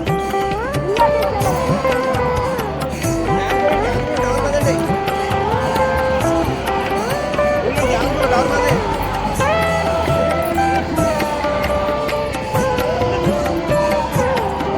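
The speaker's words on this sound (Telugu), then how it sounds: "చాలా జనం ఉంది" A large crowd waits in line at a reopened Shiva temple in Gauripatnam, a dense murmur of many voices with shuffling, steady throughout, while someone talks over it up close.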